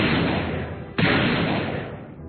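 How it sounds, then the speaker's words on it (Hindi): Guns fired together into the air in an animated children's story: one sharp, loud blast that decays into a broad rumbling wash, with no talking. "उन्होंने एक साथ हवा में गोलियां दागी।"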